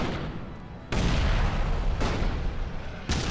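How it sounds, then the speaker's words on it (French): Three heavy grenade blasts from Elex 2 strike a troll, each a sudden loud boom followed by a rumbling roar, spaced about a second apart with no talking. "il faut envoyer quelques roquettes. Enfin, des roquettes, des grenades"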